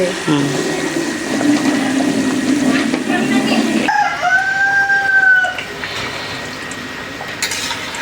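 A rooster crows once at mid distance, its long call rising and trailing off over a steady background hiss in a home kitchen setting, with a few muffled clucks and faint household noise.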